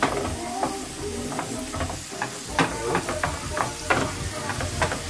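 Mackerel sizzles steadily in a hot frying pan while a utensil stirs and scrapes through it, giving irregular knocks and scrapes over a constant hiss, close up.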